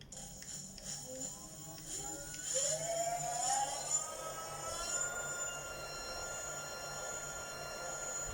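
A brand-new 1000 watt e-bike hub motor wheel on an old Giant Boulder conversion, lifted and spun up, gives a rising whine that climbs in pitch and then holds as a steady hum, close and fairly quiet.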